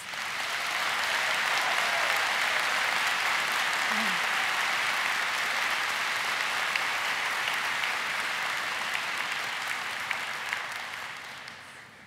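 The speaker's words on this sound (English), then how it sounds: "may I ask that we give another round of applause to Alexander Stubb" Audience applause at a May 2017 commencement ceremony following an address by Alexander Stubb, a steady, even wash of many hands clapping from a large crowd that holds for about twelve seconds, then fades.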